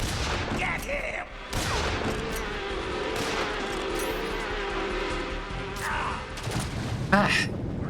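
Gunfire in Metal Gear Solid 3, a dense, continuous layer of shots and explosive booms in a busy game battle, close and loud, with a voice speaking over part of it.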